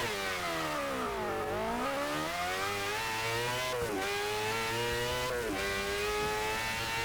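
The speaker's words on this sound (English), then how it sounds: "Pretty decent acceleration there. High revving as well." A race car in Forza Motorsport 6 at the Long Beach full circuit, its engine revving loudly and climbing steadily in pitch through the gears, with two brief dips at the shifts, close and continuous.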